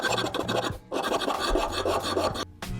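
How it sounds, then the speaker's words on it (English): A hand file rasps over burred edges of a steel candle base in quick, close back-and-forth strokes, pausing twice briefly. "a couple of these edges have a little burr, so I'll just hit them with a file real quick."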